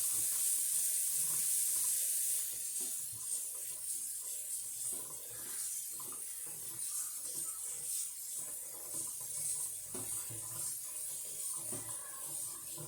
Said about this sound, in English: And right away I put some cold water